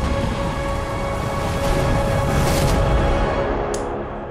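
Steady storm rain with low rumbling thunder in the video game Ori and the Will of the Wisps, a loud continuous wash that fades slightly at the end.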